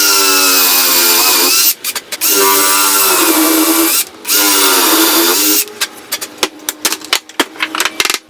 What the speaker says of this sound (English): I'm going to use my hand drill with the same bit and just drill it out.